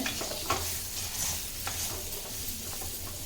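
A spoon stirs arasani kai (pumpkin) pachadi in a pan, soft scraping strokes over a low, continuous sizzle, close and fairly quiet with no talking.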